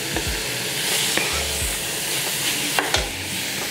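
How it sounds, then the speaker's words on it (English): Beef chunks hitting melted butter in a large chili pot over medium-high heat for Texas chili, a steady close sizzle with occasional scraping stirs and soft thumps of meat. "and then I'm just gonna add the beef."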